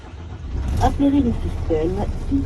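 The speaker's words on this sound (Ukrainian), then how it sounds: "Гарненько у нас заводиться." MAN TGX Euro 5 truck diesel engine, about 664,000 km on the clock, starting and settling into a low rumbling idle while someone speaks over it.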